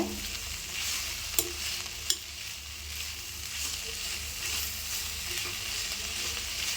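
Vallarai greens and garlic sauté in a pan for pickle with a continuous close sizzle and a few brief sharp clicks of stirring, steady throughout without speech.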